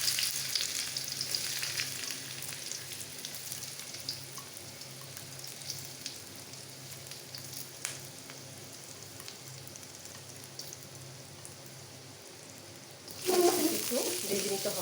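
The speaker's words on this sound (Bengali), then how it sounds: "একটু ভেজে নিতে হবে।" Onions fry in hot oil over medium heat, giving a steady close sizzle for most of the clip, with a louder burst of crackling near the end as more oil is added.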